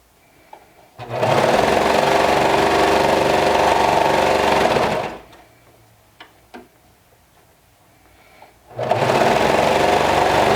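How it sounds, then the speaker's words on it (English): A sewing machine stitches through six layers of fabric in two sustained bursts of steady, close, rhythmic whirring, separated by a quiet pause with a few faint clicks. "So you need to go very slow. Give your machine a chance to catch all 6 layers"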